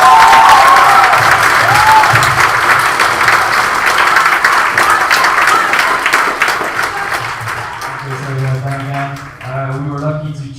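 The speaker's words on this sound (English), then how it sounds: "So a round of applause for her." A roomful of people at a Model United Nations closing ceremony applauds warmly, dense clapping that gradually thins out as a voice begins speaking near the end.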